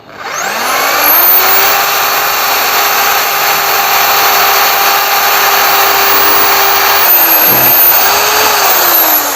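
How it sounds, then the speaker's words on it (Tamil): A power drill bores a hole in a motorcycle handlebar for an end light, a loud continuous whine that spins up quickly and holds steady with a brief dip near the end. "இப்போ ரைட் சைட்லேயும் ஒரு ஹோல்ஸ் போட்டுப்போம்"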